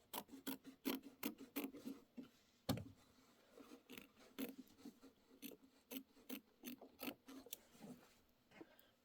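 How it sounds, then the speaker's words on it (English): Scissors or a cutter trimming quilting fabric for an embroidered pillow, a quiet series of short rasping snips in uneven rhythm, close and alone. "we're going to trim everything to the right of that"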